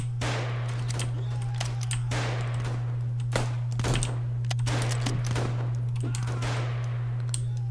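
Rapid bursts of gunfire from shooting in the Roblox game 55 Days at Peking, sharp repeated shots scattered across the whole stretch over a steady low hum, with no talking.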